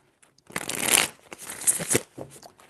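A tarot deck shuffled up close, a brief dense riffle of papery card noise rising and falling in two quick bursts before trailing off.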